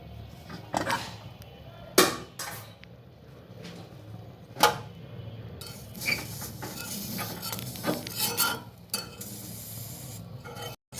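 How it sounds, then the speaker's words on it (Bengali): A lid comes off a pot and chitoi pitha rice cakes are lifted out, giving sharp metallic clinks and scraping knocks at irregular intervals over a low background hiss, close and fairly quiet. "আবারও আমি ঢাকনা খুলে পিঠা তুলে নিচ্ছি।"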